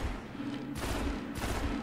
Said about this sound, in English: See if the sniper, somebody's sniping.